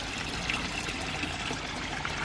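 Water trickles steadily from a koi pond water feature in a garden, a constant close splashing wash with no voices over it.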